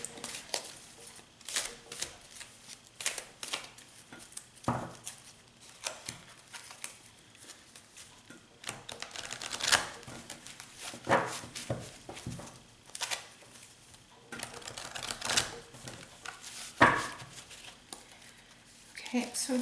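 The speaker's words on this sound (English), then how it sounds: "I'm going to be shuffling the cards and choosing 5 cards this week" Tarot cards are shuffled by hand in a run of soft, repeated riffling patters, heard under a person talking throughout.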